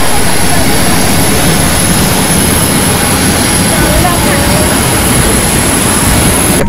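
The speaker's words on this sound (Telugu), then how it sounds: "ఇది ఎయిర్ ఇండియా ఎక్స్ప్రెస్ ఫ్లైట్." An Air India Express jet airliner on a Vizag to Goa flight gives a loud, unbroken engine roar, close and steady from start to finish.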